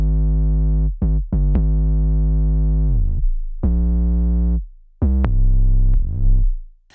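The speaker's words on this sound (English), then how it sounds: "So I added this bass line using this 808 and it sounds like this." A deep, sustained 808 bass plays a line of long notes with gliding pitch slides and short gaps, heard alone and loud.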